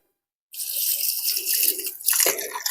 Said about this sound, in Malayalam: ഓസിലെ വരുന്ന വെള്ളം അങ്ങോട്ട് പോകുന്നത് കാണിച്ചു തരാം